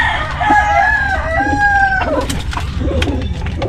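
Chickens clucking as they feed their chicks, with sustained crow-like calls from the flock over a close, steady background of farmyard noise.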